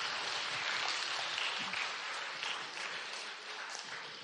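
Audience applause at a university talk, a continuous rattle of many hands clapping that stays fairly even and eases slightly toward the close.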